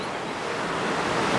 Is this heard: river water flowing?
yes